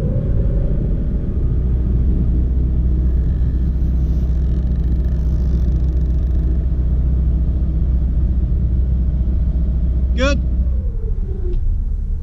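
Steady low rumble of a sailboat's motor on the Mississippi River while anchoring, holding a constant drone throughout, with a brief squeaky sweep near the end.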